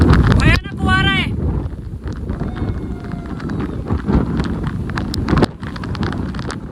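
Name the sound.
strong wind at Rajgad fort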